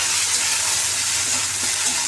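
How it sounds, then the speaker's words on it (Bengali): Bitter gourd frying in a pan gives a steady, close, bright sizzle and hiss of hot oil, unbroken for a couple of seconds. "এবার আমি আস্তে আস্তে ওটাকে ভেজে নেব।"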